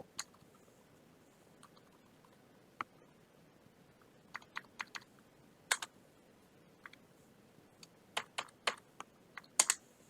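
Keys clatter on a computer keyboard in a quiet room, sparse clicks at first, then short bursts of quick typing, close and crisp with no talking.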